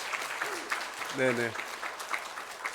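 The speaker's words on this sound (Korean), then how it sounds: "같이 우리 한 박수 하겠습니다" A church congregation at a Korean year-end Sunday service gives soft, continuous applause to welcome visitors, heard faintly beneath a voice speaking briefly in the middle.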